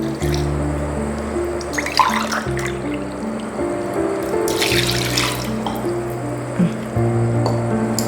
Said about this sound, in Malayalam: ഇതിലേക്ക് അപ്പം ഇനി 2 ഗ്ലാസ് വെള്ളം കൂടി വയ്ക്കാം.